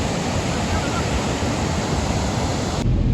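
Floodwater rushes across a flooded road in Fujairah, UAE, a loud, steady roaring wash that fills the whole clip, with wind buffeting the microphone.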